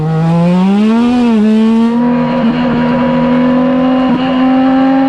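A small race car's engine drones loud and close through a turn on cold tires, pitch rising and dipping as it carries too much speed and understeers, with a steady harmonic whine throughout.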